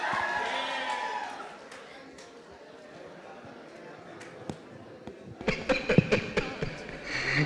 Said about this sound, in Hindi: इतनी lightly, अच्छे से ताली बजाओ.